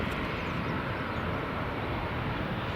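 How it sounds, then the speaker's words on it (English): A Smartwings airliner taxiing at Edinburgh Airport, a steady broadband engine roar with a constant hum, held at an even level throughout with no talk. "Smartwings is underway, taxiing now."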